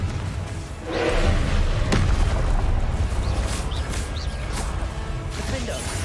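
Confringo spell explosions in Hogwarts Legacy: a sharp blast followed by steady rumbling combat noise, fairly loud, with a voice talking over it.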